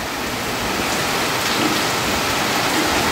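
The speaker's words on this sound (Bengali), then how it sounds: "বৃষ্টি হচ্ছে, বৃষ্টি পড়ছে" Steady rain pours down nearby, a dense, even patter on surfaces with no break throughout.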